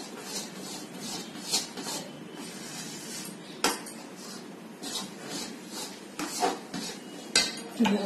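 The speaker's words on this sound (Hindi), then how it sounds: "और इलायची पाउडर और इसे मिक्स कर देते हैं" A spoon scrapes and clinks against a pan as cardamom powder and raisins are stirred into a sweet mixture, with repeated metallic taps and knocks throughout.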